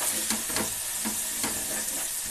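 Masala for guti ankaya curry, stuffed brinjal curry, fries in a pan with steady sizzling and hiss, while a few soft stirring scrapes land at intervals, close by and with no talk.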